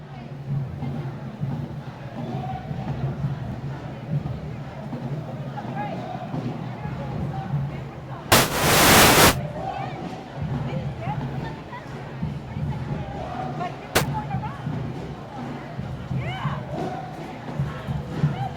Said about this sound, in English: Our big, noisy crowd here.